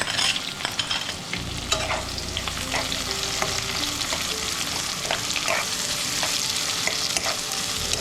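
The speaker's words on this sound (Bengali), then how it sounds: "তিনটে পেঁয়াজ কুচিয়ে রেখেছিলাম পেঁয়াজগুলো দিয়ে দেবো" Chopped onions frying in oil with dried red chillies, whole cumin and whole garam masala, a continuous close sizzle broken by frequent sharp spatula scrapes and stirring clatters.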